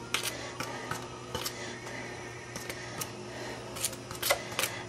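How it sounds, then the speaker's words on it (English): A pastry blender works salt into flour in a bowl for Cornish pasties, giving soft scraping and clicking strokes at an irregular pace over a steady low background hum, close by, with no talking. "It's a pastry blender, and it's very good for mixing this in."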